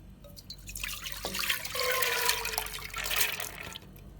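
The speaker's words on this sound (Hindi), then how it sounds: "ये पानी भी सारा इसमें ही शामिल करेंगे अब हम" Soaking water poured from a bowl into lentils being prepared for shami kabab, a close splashing, trickling pour that swells and holds steady for a few seconds before tapering off, with no talking.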